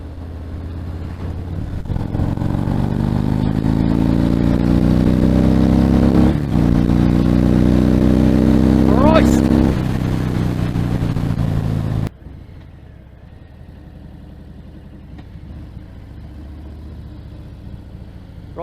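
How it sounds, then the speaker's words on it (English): A Harley-Davidson Fat Bob 114 motorcycle pulls away, its loud engine revving and climbing through the gears for about twelve seconds before cutting abruptly to a much quieter, distant engine hum. "Let's go and take the Fat Bob for a little spin then."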